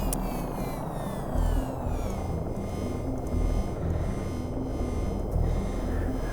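A pump runs steadily in the space game Space Mechanic Simulator, giving a continuous low mechanical hum with faint higher whine, moderately loud and alone, with slight periodic swells.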